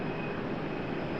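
Heavy airliner taking off from runway 5 left, a steady broadband jet engine roar that fills the whole short stretch at a constant loud level, with no voices over it.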